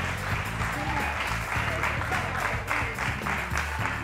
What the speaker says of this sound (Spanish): Un aplauso para Johnny